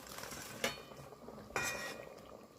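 Fried paneer is stirred gently into a curry in a cooking pot, with two brief, soft spoon scrapes and clinks against the pot over a quiet background.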